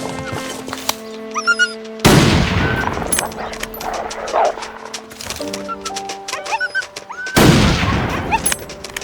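Gunshots in the survival game The Long Dark, two sharp loud blasts several seconds apart amid game ambience, with tonal cues and animal-like noises between them.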